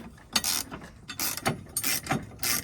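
Ratchet wrench tightening the top shock bolts on a Land Rover Discovery 2 during a Terrafirma 2-inch lift kit install, heard as several close, loud bursts of rapid clicking separated by short pauses, with no talking.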